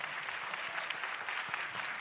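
Audience applause for the moderators at the close of a Frisco Chamber candidate forum, a steady wash of many hands clapping at moderate level for about two seconds, with no talking over it.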